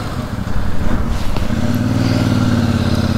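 A Royal Enfield Super Meteor 650 motorcycle idles in first gear, its twin-cylinder engine putting out a loud, close, steady low thump that settles into an even, throbbing rumble after a brief shift.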